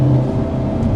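Steady, loud engine rumble and exhaust drone from a Hyundai Elantra N, close and continuous, with a faint crackle near the end.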